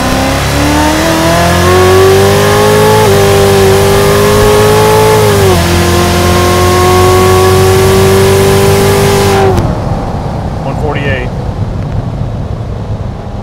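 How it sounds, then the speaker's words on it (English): A Hennessey HPE1000 Z06 Corvette accelerates hard, its engine roaring loud and close as the pitch climbs through upshifts for about nine seconds, then cuts off abruptly, leaving quieter wind and road noise. "when you mash your foot into the gas pedal, you better have it pointed straight"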